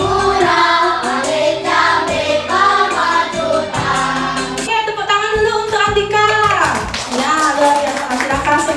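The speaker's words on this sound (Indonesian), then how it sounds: "Oke, tepuk tangan dulu untuk Andika." Children in a primary school classroom applauding a classmate, rhythmic clapping mixed with lively voices of kids and a teacher speaking over it.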